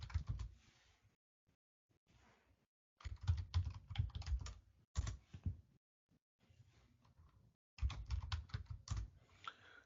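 Typing on a computer keyboard at a Linux terminal, close and fairly quiet, in several quick bursts of rapid key clicks separated by short pauses.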